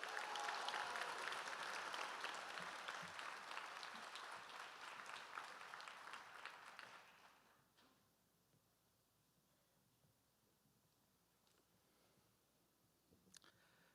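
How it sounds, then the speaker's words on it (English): A graduation hooding ceremony audience fills the hall with sustained applause, dense and steady for about seven seconds before it drops off to near silence with a few stray claps. "Let's give them another round of applause."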